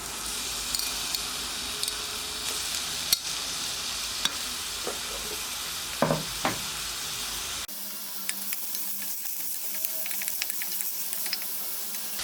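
Thinly sliced onion fries in coconut oil in a cooker for beef vindaloo, giving a steady soft sizzle with occasional stirring clicks and scrapes, fairly quiet and without talk.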